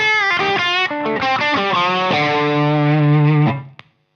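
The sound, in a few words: distorted electric guitar through ENGL amp red channel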